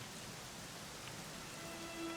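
Steady, dense rain falls continuously in Dragon Quest XI S, a broad hiss with no breaks and no voices, filling the short stretch at an even level.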